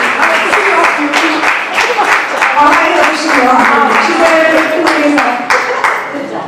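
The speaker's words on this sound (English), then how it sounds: "we want everybody to clap for us" A crowd at a CDMC and UNESCO AI Futures Lab media literacy valedictory event gives steady, loud applause. Many hands clap continuously while voices carry on over the noise.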